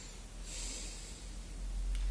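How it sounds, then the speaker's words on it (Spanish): A deep, slow breath drawn in and released during a guided breathing exercise, faint and close with a low airy rush and no talking. "Hacemos respiración."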